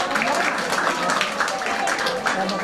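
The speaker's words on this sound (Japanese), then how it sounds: "皆さん大きな拍手をお願いいたします" Steady applause from a crowd at a park golf monthly tournament award ceremony outdoors in Japan, dense continuous clapping of many hands at an even level throughout, without talk over it.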